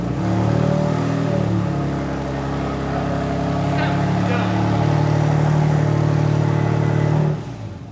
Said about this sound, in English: you need to hear how it sounds with no exhaust